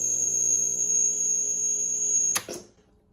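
A rare ARC stereo sound system's cassette deck runs with a steady high-pitched whine and hum under the turning tape, then stops with a brief clunk and rattle before falling quiet.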